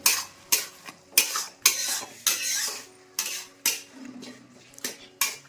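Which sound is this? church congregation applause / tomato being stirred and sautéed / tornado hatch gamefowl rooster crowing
tomato being stirred and sautéed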